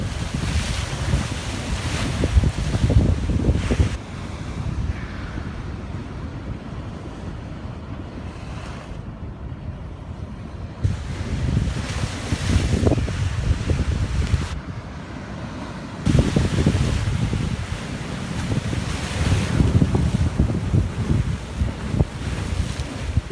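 Ocean surf of the Atlantic at Stewart Rocks, Florida, rolls in steady broad washes with louder surges every few seconds, mixed with wind buffeting the microphone, and no voices.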